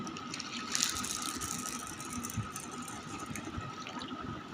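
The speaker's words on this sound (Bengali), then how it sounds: "বুটের ডাউলের ভিতরে পানি দিয়ে দেব।" A steady rush of water poured into a container of soaked chickpea lentils (chana dal), continuous and fairly close, with a slight rattling texture and no talking.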